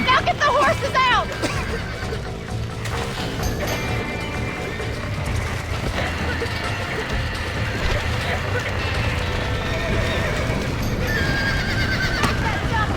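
Horses whinny loudly in Red Dead Redemption, with clip-clopping hooves and galloping underneath and busy game noise around them.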